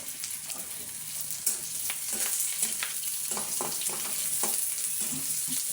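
Vegetables sizzle and crackle steadily in a hot pan, with occasional stirring scrapes and no talking.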